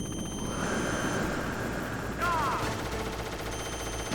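Rapid gunfire and a rotor drone from a Hind helicopter battle in Metal Gear Solid play as a continuous loud barrage with a sharp burst partway through, overlaid by game tones.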